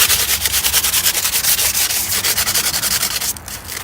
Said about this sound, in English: Clean up the grate a little bit.